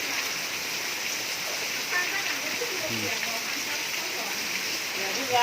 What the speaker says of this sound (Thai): ฝนตกพอดีเลย